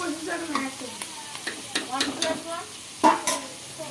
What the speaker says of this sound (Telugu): ఇంకో 2 minutes కర్రీ బాగా వేగించాలి ఫ్రెండ్స్. కలుపుతూనే ఉండాలి వేగే వరకు.